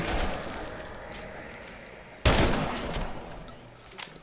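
A single loud shotgun blast goes off in a video game, cutting in suddenly over a steady wash of game background noise and then trailing away.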